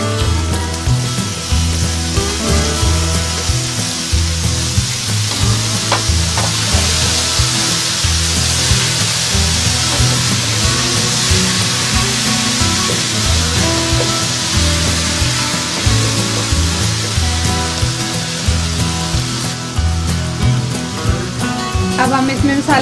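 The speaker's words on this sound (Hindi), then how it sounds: "अब हम इसमें टमाटर ऐड करेंगे।" Tomatoes go into okra frying in a pan for bhindi masala, producing a loud, steady sizzle with scraping and stirring throughout, and a voice speaks over it.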